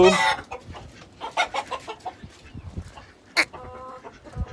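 Native desi chicks and hens clucking and peeping in a rural backyard, with a string of short, close calls and a few louder bursts, all without any talking.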